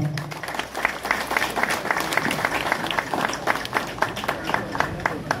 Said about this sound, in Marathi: जरा जोरदार टाळ्या वाजवा।